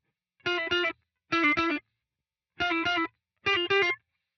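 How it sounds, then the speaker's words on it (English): Electric guitar played through distortion, four short bursts of quick pull-offs, each a pair of rapidly changing notes, separated by silent gaps and heard alone. "Start using bends and slides, hammer-ons, pull-offs"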